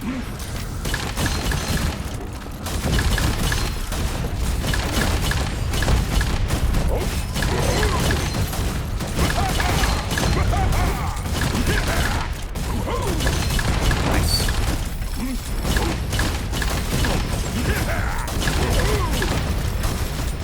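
A tiger cannon blasts away in a game run with dual-wielded weapons, thick booming and crashing shots packed into a dense, continuous barrage with layered game effects and a speaking voice underneath.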